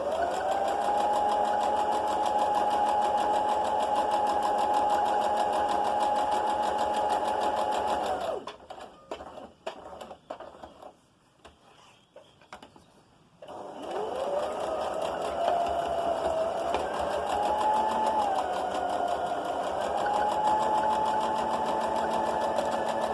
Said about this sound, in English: Again, over the needle, backstitch.